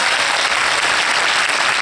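A cinema audience at a film premiere bursts into warm, dense applause, loud and steady throughout the short stretch, a close wall of many hands clapping with no one speaking over it.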